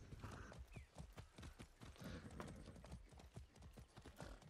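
Horse hooves clip-clop steadily in the Far Cry 6 video game, a quick regular trotting rhythm of hoofbeats throughout, with some game background noise and faint mechanical sounds.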